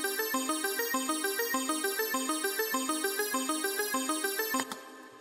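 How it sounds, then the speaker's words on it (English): A basic repeating synth pattern from the Massive VST instrument plays alone in a steady rhythmic loop of bright, tonal notes, ending with a brief accent before fading out. "We've got a VST instrument, massive here"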